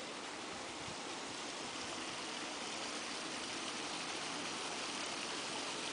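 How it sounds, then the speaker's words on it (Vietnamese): A babbling stream flows beside a hut in a quiet spot, giving a steady, dense rush of water throughout with no voices. "Đây là bên dòng suối đấy này."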